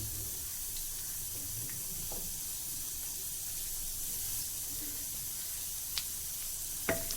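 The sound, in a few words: curry leaves frying in coconut oil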